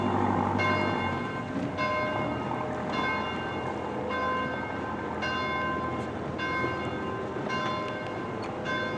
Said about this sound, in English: That's the tower where the bell is ringing right there.